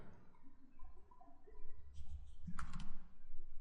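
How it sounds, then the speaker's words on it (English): Loud computer keyboard clatter, a cluster of sharp close keystrokes over a low background hum, with no voices. "Yeah, so there's no more annoying loud keyboard. I can still hear a little bit even though it's quiet"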